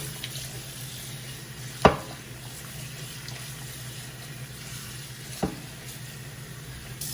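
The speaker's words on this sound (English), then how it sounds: "Just gonna rinse them with the water" Cool water runs steadily from a tap over potatoes in a pot in the sink, a continuous hiss with two brief knocks as something bumps in the sink.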